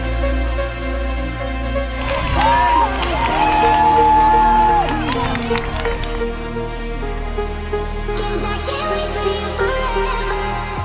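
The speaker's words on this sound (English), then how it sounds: "Everyone around her in the Excel Centre cheering her on" A large indoor crowd at the Excel Centre in London cheers and whoops for British triathlete Lucy Charles-Barclay, a loud, sustained roar swelling midway, with a commentator speaking over it and music present.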